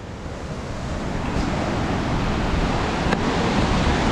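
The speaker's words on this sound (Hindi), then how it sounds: "वाटरफॉल आ चुका है" A waterfall on the Kheerganga trek in the Himalayan hills roars as a continuous broadband rush of falling water, steady and loud, slowly swelling, with no talk.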